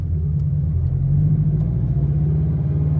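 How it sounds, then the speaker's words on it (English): A Scion FR-S exhaust drones low and steady while driving, a loud, close cabin rumble with a continuous engine hum and no speech. "the exhaust, I really do like that sound"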